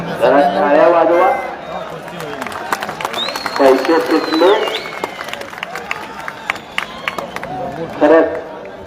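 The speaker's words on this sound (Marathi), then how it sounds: "जरा टाळ्या वाजवा." An outdoor crowd claps and cheers at a kushti wrestling bout between Balarafikh Shaikh and Mauli Jamdade, steady scattered clapping and crowd noise running throughout beneath a loud commentator speaking over it.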